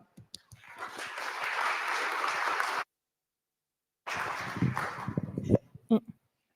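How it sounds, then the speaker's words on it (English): An audience at a frontend tech conference applauds as a speaker is welcomed, a dense burst of clapping for a few seconds, then a pause, then another round that thins into scattered claps and handling noises. "Give it applause for Charlie"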